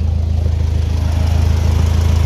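A 1957 Ferguson 35 TVO tractor engine runs close and loud, a fast, throbbing low pulse that holds steady throughout, with no voices.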